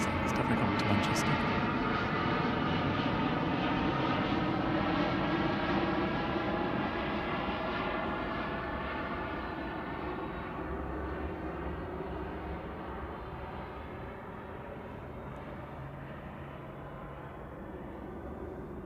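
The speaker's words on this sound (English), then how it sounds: "It's a Cessna Citation. Quite a noisy little thing." A Cessna Citation private jet arriving at Manchester Airport, a loud whining jet roar with a wavering tone that slowly fades as it passes, with a voice speaking softly underneath.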